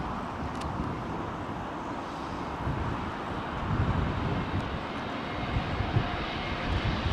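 Airliner engines roar continuously on arrival at London Heathrow Airport at sunset, a broad steady rumble mixed with blustery wind noise, no talking.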